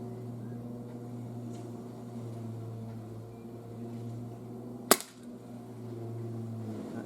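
A Sig Sauer P226 CO2 pellet pistol fires a single sharp, brief crack at a paper target, standing out clearly above a steady low background hum.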